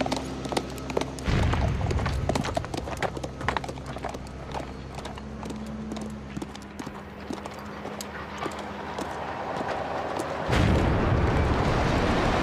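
Horse hooves gallop across an arena, a steady rapid clip-clop of close, loud hoofbeats with heavy low thuds throughout.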